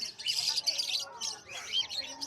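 A bright yellow buttercup bird chirps and tweets in rapid high bursts at a busy pet market, calls close and fairly loud, with people talking nearby.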